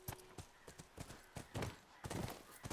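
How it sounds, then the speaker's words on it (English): Horse hooves clip-clopping in The Last of Us Remastered as the horse is ridden toward a barricade, an uneven series of hoof strikes over a quiet game background, with no talking. "make the horse jump over the barricade"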